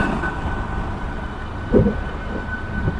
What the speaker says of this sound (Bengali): আমাদের ট্রেন এসে দাঁড়িয়েছে ঢুকেছে